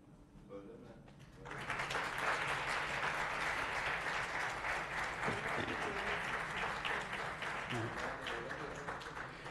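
Applause breaks out at an award ceremony for human values, starting after a quiet moment and swelling into sustained, dense clapping from a large audience, with faint voices mixed underneath.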